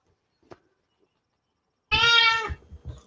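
A feral cat gives one loud, drawn-out meow close by, followed by short softer mews, after a quiet stretch with a single small knock.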